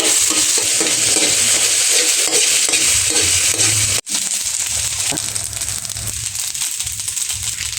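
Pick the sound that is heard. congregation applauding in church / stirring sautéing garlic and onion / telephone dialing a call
stirring sautéing garlic and onion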